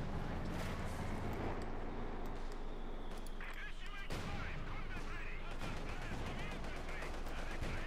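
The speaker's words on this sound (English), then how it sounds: "T7 there bombarding the Grenadiers with high explosive 45mm rounds" Repeated booming shots from a T-70 light tank firing 45mm high-explosive rounds into German Grenadiers in Company of Heroes 2, mixed with dense battlefield gunfire and explosions, loud and continuous throughout.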